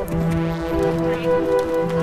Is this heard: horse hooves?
yes